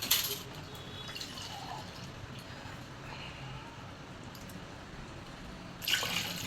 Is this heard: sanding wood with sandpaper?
no